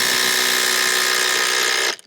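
A cordless power drill drives a 250 screw into a timber frame for a garden room, a steady high-pitched whine holding loud and close for about two seconds before cutting off abruptly.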